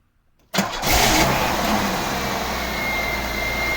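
A Buick Gran Sport engine cranks briefly and catches, then settles into a steady, loud idle close by, with no voices over it.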